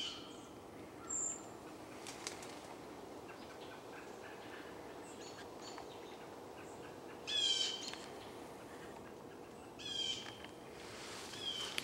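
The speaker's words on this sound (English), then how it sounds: "In the leafy tree tops, the birds sing good morning." Birds call from leafy treetops on a sunny morning outdoors, a few short bright chirps and calls standing out at intervals over a steady quiet background of ambience, fairly distant and soft.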